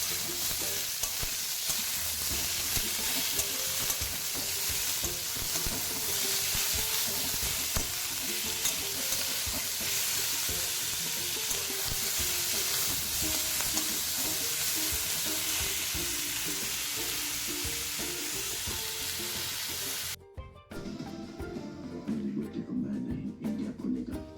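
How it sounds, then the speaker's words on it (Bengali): Spinach and vegetables, including potato and beetroot, being stir-fried in a pan, with a steady loud sizzle and the scrape of stirring for about twenty seconds before the sound cuts to quieter clattering. "সেই পালং শাকটা দিয়ে রান্না করছি"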